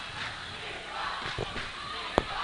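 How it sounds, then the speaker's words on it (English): A crowd at a high school boys basketball game heading into overtime chants and roars steadily, a dense wash of voices with a few louder shouts and a sharp bang near the end. "Crowd picking up the chant."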